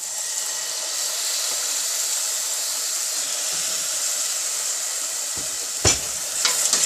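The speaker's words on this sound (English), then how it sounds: "So here goes my pureed tomatoes." Pureed tomatoes hit a hot masala base for paneer tikka masala, raising a loud, steady hiss of sizzling that holds evenly, with a few utensil knocks toward the end.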